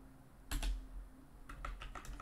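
Code is typed on a computer keyboard in two short bursts of close key clicks, with a brief pause between them and a quiet background.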